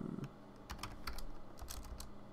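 Short burst of typing on a computer keyboard, quick irregular clicks of keys close to the microphone, alone without talk.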